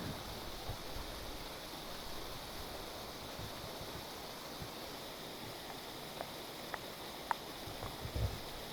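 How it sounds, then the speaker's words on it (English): Creek water flows steadily in a steady broadband rush along a hiking trail near Cold Spring, New York, faint and continuous, with a few soft clicks near the end and no talking. "I like the sound of the creek."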